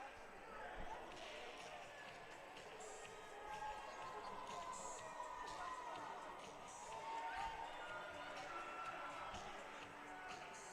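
Hockey arena crowd at an Owls home game voicing displeasure after an icing call, a steady broad murmur and grumble of many voices throughout, swelling slightly midway with faint skate and puck noises underneath.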